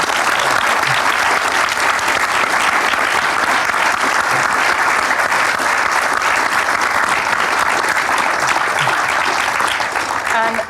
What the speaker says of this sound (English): Let's give them a large round of applause, please.